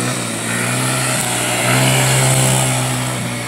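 A child's four-wheeler ATV runs at full throttle, a steady, loud, buzzing small-engine drone that holds nearly constant pitch with a slight swell midway, with no talk.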